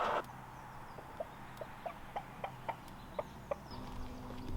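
Chickens on an educational farm cluck in a steady series of short, moderately close calls, about ten evenly spaced clucks over a low background hum with no talking.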